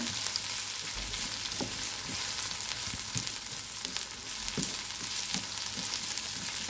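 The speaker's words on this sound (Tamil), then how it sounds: "வெங்காயம் சேர்த்த பிறகு நல்லா ஒரு 3 நிமிஷம் வரைக்கும் நல்லா வதக்கி விட்டுக்கலாம்" Onions sauté in hot oil with fennel seeds, giving a continuous crackling sizzle with small pops and occasional stirring sounds, close and steady with no speech.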